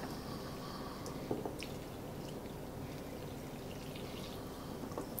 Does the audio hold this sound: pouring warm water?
yes